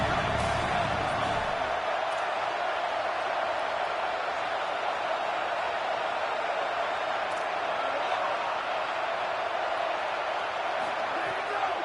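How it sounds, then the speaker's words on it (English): A packed stadium crowd at an American football game roars without a break, a loud, dense wall of cheering and noise that holds steady throughout. "Listen to this crowd just shaking the girders of this place, trying to help their defense."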